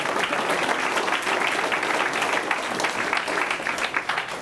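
A full audience applauds high school band members at a school board meeting, a dense, loud, continuous wash of many hands clapping that stays steady for several seconds, no speech over it.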